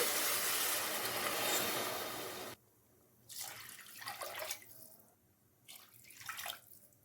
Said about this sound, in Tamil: மூணு டம்ளர் தண்ணி ஊற்றியாச்சுங்க